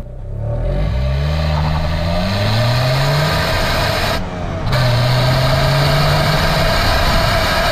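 Engine of a 1994 Honda Accord with manual transmission and about 295,000 km, revving and pulling away in low gears with a rising whine, a brief dip at a shift, then steady acceleration, loud and close throughout.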